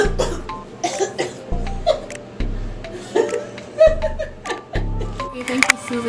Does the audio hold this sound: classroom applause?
no